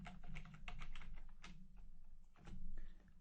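Quick, close keystrokes patter on a computer keyboard as code is entered, a steady run of soft clicks over a low background hum.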